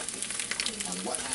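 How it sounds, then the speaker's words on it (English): An egg for a breakfast sandwich fries in a hot pan as it is flipped, giving a brief, steady, close sizzle that swells slightly near the end. "we're gonna flip this egg"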